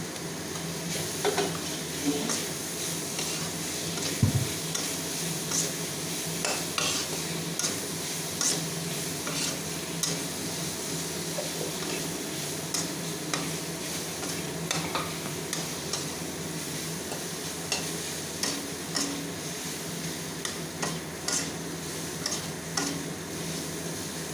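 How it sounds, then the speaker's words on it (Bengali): Fish pieces frying in a pan with chilli powder and garam masala, stirred now and then: a steady, moderate sizzle with repeated soft scraping clicks from the spatula, and one heavier knock early on, with no talking. "নাড়াচাড়া করার পর ছাড়ানো মাছগুলো দেওয়া হলো"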